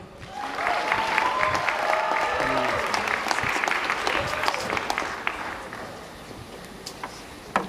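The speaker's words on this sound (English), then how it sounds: "Can we please give them a round of applause?" An audience claps for a police brass band at an outdoor South African ceremony: a full, steady round of applause that thins and fades toward the end, with faint voices and scattered claps trailing off.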